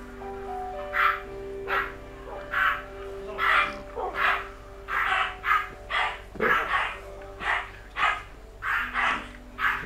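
Dogs in the Minecraft video game barking in a regular series of short, sharp yaps, one every half second or so, moderately loud against a faint steady background hum.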